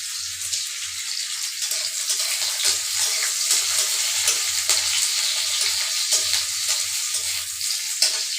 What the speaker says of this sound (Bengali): লাল লাল করে ভাজা করুন